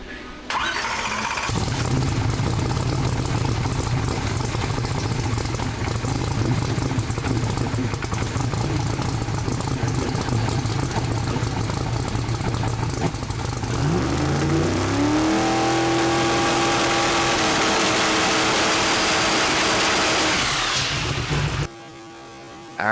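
A car held on a two-step launch limiter at wide open throttle roars loudly and continuously, its pitch climbing and rising toward the end before the engine abruptly cuts off.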